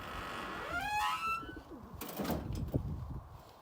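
Young male tumbler pigeon cooing nearby, soft throaty calls repeating through the clip with a rising whistly note early on.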